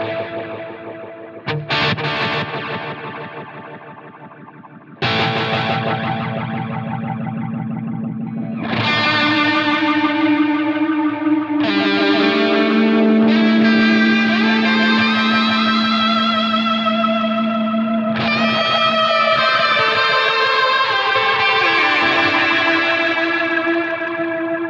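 An electric guitar plays through the Cosmos Echo delay effect on a Line 6 Helix, sustained chords and notes ringing out loud and distorted with repeating echoes and swirling modulated tails, no voices.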